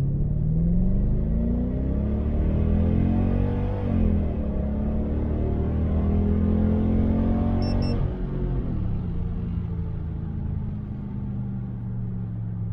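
An AMG car running on LPG rumbles along on the way to a test track, its low engine note rising and falling through gear changes. The drive is steady and close, heard from inside the car, with no voices.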